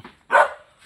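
One loud, close bark from a dog being fed, sharp and short, with a faint trailing sound afterward.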